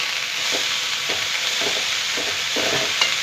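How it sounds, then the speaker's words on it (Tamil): Thumbai greens sautéing in a pan give a steady sizzle and hiss, with soft periodic scraping strokes as the greens are stirred, close and continuous. "நல்லா வதக்கி விட்டுக்கலாம்."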